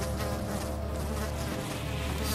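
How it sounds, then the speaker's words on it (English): Mosquitoes buzz continuously in the horror game Amnesia, a steady close whine that holds at an even level throughout with no voices over it. "Stop, mosquitoes!"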